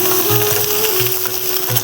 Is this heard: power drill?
no